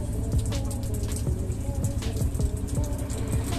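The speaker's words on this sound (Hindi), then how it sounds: "जब बारिश का पानी एयर कंडीशनिंग वेंट से बरसने लगा।" Rainwater pours and splashes steadily from an air-conditioning vent inside a Mumbai–Indore Avantika Express train carriage, a close continuous patter over a low hum.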